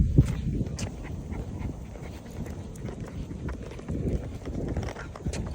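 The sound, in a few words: dogs on an afternoon walk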